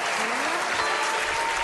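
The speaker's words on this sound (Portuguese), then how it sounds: "palmas da galera, gente" Studio audience applauding after a live song on a Brazilian TV show, dense continuous clapping filling the room, loud and close.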